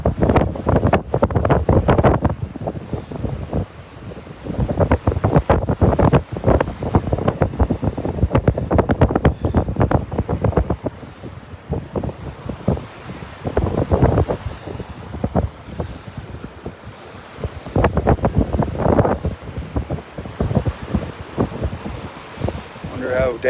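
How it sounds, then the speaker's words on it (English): Strong wind buffets the microphone on a beach at Delnor-Wiggins with surf rolling in, a loud continuous roar with gusty bursts throughout. "the wind's going to kind of be at my back."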